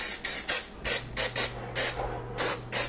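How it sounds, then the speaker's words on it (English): Olive oil spray misted over egg rolls sitting in a Ninja Foodi two-basket air fryer: about ten short, close, sharp hissing bursts in an uneven rhythm, with a faint low hum beneath and no talk. "I am going to grab some of this olive oil spray that I have, and I'm just going to spray it down"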